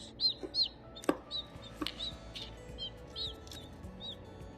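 A newly hatched baby chick peeps repeatedly on a farm, high thin cheeps close by and fairly loud, with a couple of sharp knocks between them.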